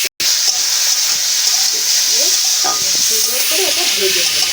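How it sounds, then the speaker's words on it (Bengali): Carrots fry in a pan with a loud, continuous sizzling hiss, up close, with a few faint stirring scrapes and knocks and a brief silence at the start. "গাজরটা ভেজে নেব।"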